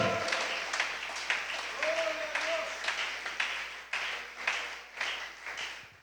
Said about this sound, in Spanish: bríndale un aplauso al Señor Jesucristo